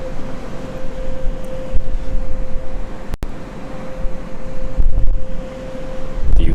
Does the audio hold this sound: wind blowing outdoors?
yes